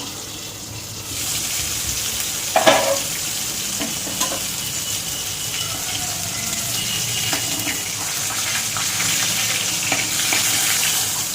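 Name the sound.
boal fish frying in oil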